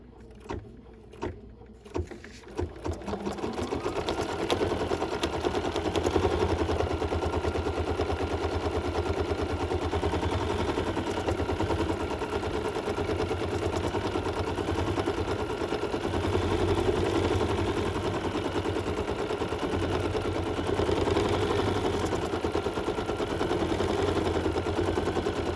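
A sewing machine stitching mint felt for a candy cane holder, with a few clicks at the start and then a steady, dense mechanical whir running continuously at close range.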